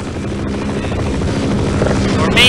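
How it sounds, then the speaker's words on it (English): Apache helicopter circling in the Half-Life game, a steady low rotor drone that holds at an even level throughout, swelling slightly louder near the end. "let's see if there's a way we can get rid of this Apache helicopter. Unless if it's just gonna keep circling around there."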